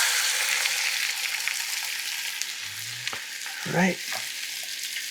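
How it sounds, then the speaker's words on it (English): Sesame-encrusted tuna sears in a hot pan with a steady, loud broad sizzle, briefly disturbed by a clatter and a short spoken word. "Now you really just want to sear these on each side for about a minute"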